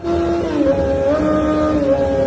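A Yamaha R6 motorcycle engine revs through a melody, its tone stepping up and down in pitch steadily like the tune of Happy Birthday, loud and close with no talking.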